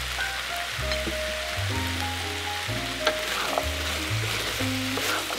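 Oil sizzling in a pan while cooking jjajangmyeon, Korean black bean noodles, with vegetables sweating in it; a steady, close frying hiss runs throughout, alone, with a few small pops and low hum underneath.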